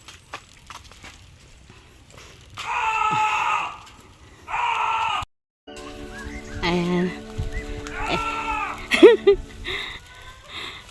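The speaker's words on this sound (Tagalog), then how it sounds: "naririnig niyo yung sigaw ni Donato" A goat lets out several loud, drawn-out bleating screams, spaced apart, with scattered rustling and background noise between them.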